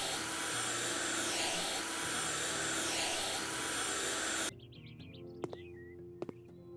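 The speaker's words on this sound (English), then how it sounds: "it sounds like a vacuum, but I've never seen a vacuum that looks like this" A vacuum cleaner in the House Flipper video game runs with a steady, loud broadband whoosh that cuts off abruptly, leaving faint game chirps and clicks behind.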